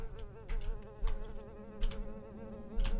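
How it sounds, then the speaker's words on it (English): Insects buzz steadily in the horror game Beyond The Evil, a close, droning hum with several louder swells, and no voices. "I hear the bees again."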